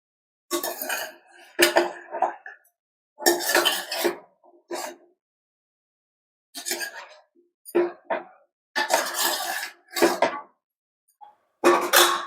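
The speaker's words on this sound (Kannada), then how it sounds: "ಸ್ವಲ್ಪ ಚೆನ್ನಾಗಿ ತಿರುಗಿಸ್ಬಿಟ್ಟು ಈಗ ಕುಕ್ಕರ್ ಮುಚ್ಚಳ ಹಾಕ್ತಾ ಇದ್ದೀನಿ" Metal pot and pressure cooker lid clatter and scrape in bursts as a cooker of chicken sambar is stirred and then closed, with irregular near clinks and knocks separated by short pauses.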